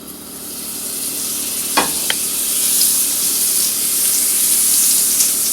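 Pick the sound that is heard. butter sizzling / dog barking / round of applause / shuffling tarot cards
butter sizzling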